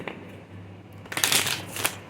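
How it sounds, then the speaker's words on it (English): Tarot cards are shuffled close by, a soft rustle that swells into a brisk riffling flurry during the second half of the brief moment. "I'm being led to shuffle them very, very"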